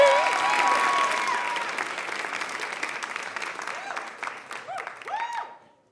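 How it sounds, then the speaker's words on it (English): A live storytelling showcase audience gives a big round of applause for a performer, dense clapping with cheers and whoops that gradually thins into scattered claps and fades out. "let's have a huge round of applause for David Lepelstat!"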